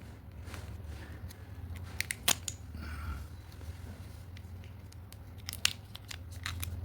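Scissors cut a small plastic packet holding a 1959 50 paise coin, giving quiet, sharp, scattered snips with faint crinkling over a steady low hum.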